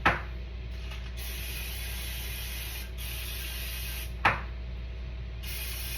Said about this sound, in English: And I'm going to spray this over the sink.